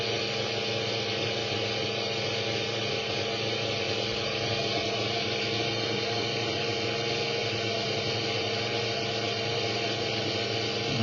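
A Tyco slot car with a '83 Corvette body runs on its track, its small motor giving a steady, even whir with gear noise that holds unchanged throughout, close and without pauses.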